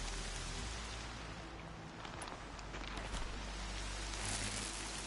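Steady, close rain falls in the open world of Horizon Zero Dawn as an even hiss at moderate loudness, with faint scattered patters mixed in and no talk.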